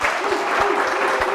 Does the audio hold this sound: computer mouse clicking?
no